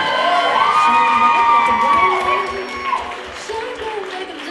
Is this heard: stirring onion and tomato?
no